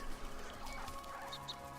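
A chicken clucks softly in the video game Soulframe, a few short clucks over a busy ambient game soundscape.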